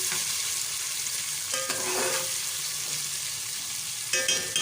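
Tomato masala fries in a pan for a green pulao, giving a steady close sizzle with faint scraping stir strokes and a few brighter clinks of a spoon, no voices.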